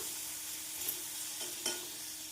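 Ground tomato paste sautéing in a pan for a tomato kurma, a steady soft sizzle broken by two brief stirring scrapes near the end, close and without speech.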